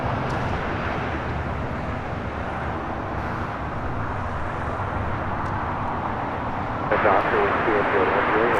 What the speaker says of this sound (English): This is Avianca 621 taking off to San Salvador on an A320neo.